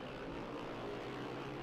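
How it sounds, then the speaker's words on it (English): Sustained loud roar of Formula One cars with V10 Judd engines at Road America, a dense mechanical whine holding steady for the whole moment, like racing engines screaming past. "What a sound out of those V10 Judd engines"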